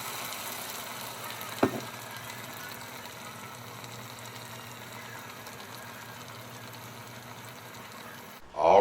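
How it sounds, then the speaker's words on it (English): A pan sauce of cranberries, shallots and butter sizzles and bubbles in a steady soft fry, with a brief clink near the start and a louder knock at the very end. "And then we're going to let the cranberries cook until the sauce thickens."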